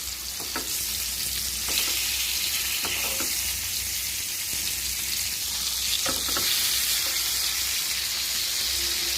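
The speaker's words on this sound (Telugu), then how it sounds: "ఆయిల్ వేడెక్కాక ఇలా ఫ్రై చేసుకోవాలి" Fish frying in hot oil in a pan, a steady close crackling sizzle broken by occasional sharper pops and stirring clatters, with no talking.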